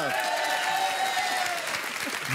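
Studio audience applause welcoming a couple onto a French TV game show, dense continuous clapping heard at a moderate distance, even and sustained throughout with a faint musical tone underneath.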